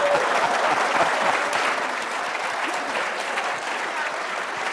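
An audience at a White House press secretary's event bursts into steady, dense applause, many hands clapping at once, loud and continuous with no break.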